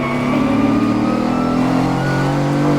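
Mercedes-AMG GT4 race car engine pulling hard under full power during night practice at the Dubai 24 Hour, a loud, steady in-car drone with rising pitch through the whole stretch, no talk.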